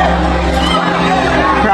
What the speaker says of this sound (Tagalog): Crowd getting behind Casimero.